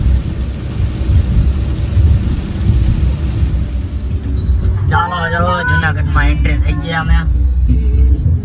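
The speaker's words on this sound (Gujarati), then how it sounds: "ફૂલ વરસાદ છે" Heavy rain pours down in a Gujarati village during a thunderstorm, with a steady, dense hiss and low thunder rumbling underneath. People talk partway through.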